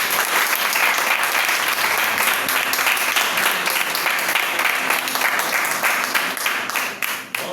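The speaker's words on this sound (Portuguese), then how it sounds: "Aplauda esse Deus, igreja" A church congregation applauding during a Sunday communion service, loud continuous clapping from many hands that holds steady and eases slightly at the close.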